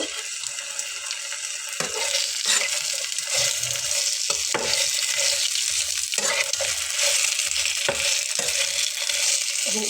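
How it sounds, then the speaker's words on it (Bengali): Spiny gourd (kakrol) pieces frying on low heat in a pan, a bright continuous sizzle broken by repeated scraping stirs every second or so, close and unvoiced. "এই সবগুলোকে আমি একটু হালকা আঁচে ভেজে নেব"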